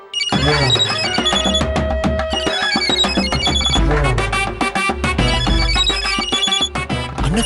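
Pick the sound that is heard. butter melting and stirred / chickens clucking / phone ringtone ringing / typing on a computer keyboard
phone ringtone ringing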